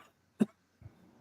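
A man coughs once sharply, fairly close, followed by a short, softer throat noise; no talking.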